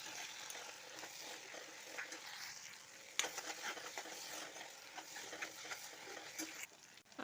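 Chopped tomatoes sautéing in a pan, a faint continuous sizzle and hiss with occasional light stirring scrapes and one sharper knock midway, no voices.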